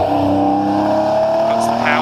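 A Volkswagen Beetle race car accelerates steadily through an S-bend on a hill climb, its engine a loud, sustained drone with a rising pitch, while a commentator talks over it.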